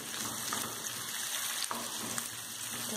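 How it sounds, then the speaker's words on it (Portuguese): Half an onion, already chopped, frying in a pan as part of a banana farofa, giving a soft, steady sizzle with light stirring scrapes close by and no voices. "Vou adicionar também meia cebola, né? Que eu já deixei cortadinha. Pra dar também uma douradinha."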